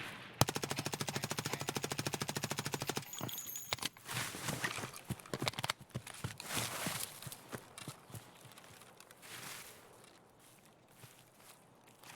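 An MP5 submachine gun firing in Escape from Tarkov, a fast continuous burst of rapid sharp shots for about three seconds, followed by scattered single cracks, clattering gear and footsteps.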